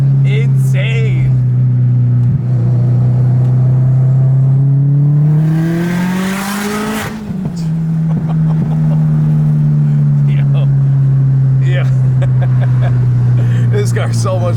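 A 500-wheel-horsepower Subaru WRX engine drones at a steady pitch, then revs up in a quick rising sweep and settles back into a sustained loud hum, close by.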